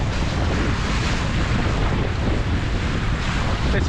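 A sailboat under a reefed mainsail in tough, windy conditions, with a constant loud roar of wind buffeting the microphone over rushing waves and surf, no voices.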